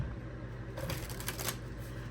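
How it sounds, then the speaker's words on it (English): A deck of tarot-style cards is shuffled in a quick riffling burst that rises briefly over steady background hum, close and fairly quiet. "One more shuffle, I heard."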